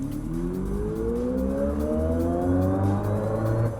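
A Hyundai Ioniq 5 N in Gran Turismo 7 launches hard from a standstill, its synthetic drive tone rising steadily in pitch with stepped shifts over about four seconds, loud and continuous with no talk.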